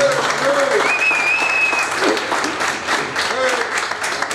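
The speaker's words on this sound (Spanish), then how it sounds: "fuerte el aplauso" Sustained audience applause fills a music bar in Olmedo, dense and steady throughout, with a whistle cutting through and voices calling out over the clapping.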